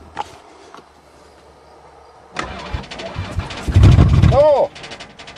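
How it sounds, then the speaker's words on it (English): A van's engine cranks and tries to start after a failing-starter attempt, with a quiet click, then a rough rising grind of the starter and sputtering engine for a couple of seconds, ending abruptly; a short vocal sound cuts in near the end. "Before I get too settled, I'll see if it even cranks."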